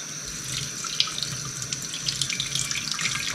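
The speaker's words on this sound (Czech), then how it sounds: "Takže já si dám horkou vodu." Hot water runs from a tap into a sink in a continuous hiss, with small splashes and drips spattering irregularly, close and fairly quiet.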